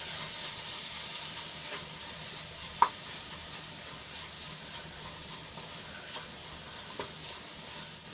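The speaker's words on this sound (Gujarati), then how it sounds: "બધું મસાલા અને ગોળ સરસ રીતે મિક્સ કરી લઈશું" Teasel gourd curry sizzling softly in a pan as spices and jaggery are stirred in, a faint steady hiss with an occasional sharp clink of the spoon and no talking.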